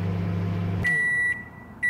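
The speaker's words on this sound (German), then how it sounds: "Das schmeißen wir in die Mikrowelle, Leute." Video game microwave oven heating chicken: a steady low hum cuts off, then a chime rings out with a second, brief beep near the end, close and clear.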